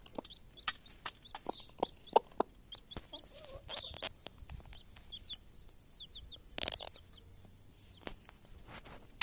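Black Brahma hen clucking softly to her chick, a scatter of short, fairly faint clucks and chirps in a quiet setting, with a few small thumps and rustles between them.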